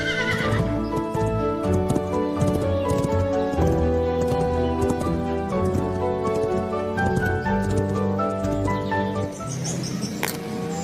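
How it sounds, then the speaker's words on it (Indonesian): A toy-demonstration horse sound effect: a horse whinnies and its hooves clip-clop steadily, loud and continuous, with music-like tonal layers running underneath. "Nah, yang ini hewan kuda."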